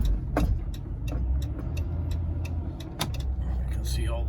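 A car rolls into the Dieppe, New Brunswick Canada Post plant lot, a low steady engine rumble close by with scattered clicks and jingles and a voice speaking over it.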